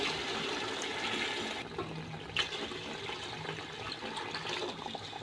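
Water being poured into a cooking pot for chicken pulao, a steady rushing pour that drops in intensity partway through and then continues more softly, with no talking.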